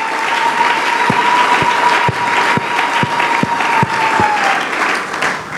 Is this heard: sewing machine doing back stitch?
no